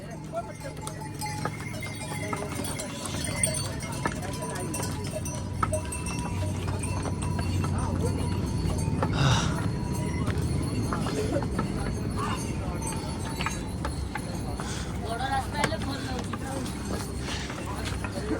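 Horses' hooves clip-clop along the Kedarnath mountain trail amid a steady outdoor crowd noise, with people talking over the walking rhythm throughout.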